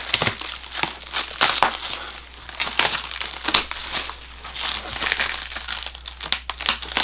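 Packaging being cut and pulled loose during an unboxing of a large animation piece, with dense crinkling and crushing of plastic or paper wrap in irregular bursts, close and fairly loud throughout.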